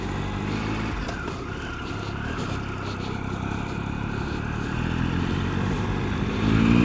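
An adventure motorcycle pulls away from a green light on a city street, its engine a steady low rumble that builds toward the end, with traffic noise around it.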